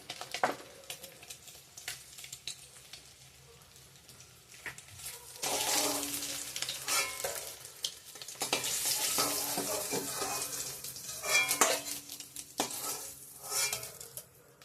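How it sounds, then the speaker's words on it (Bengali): Onion fries with panch phoron, dried chilli and bay leaf, starting with quiet scattered clinks and scrapes, then a louder sizzle rising midway alongside irregular stirring clatter, all at close range. "পাঁচফোড়ন দিয়ে দিলাম পেঁয়াজটাকে ভালো করে ভেজে নেব পেঁয়াজ শুকনো লঙ্কা তেজপাতা"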